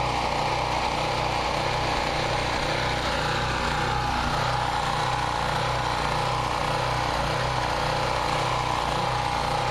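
A small gasoline pump engine runs steadily at a constant drone, with a loud, unbroken mechanical hum and no voices heard.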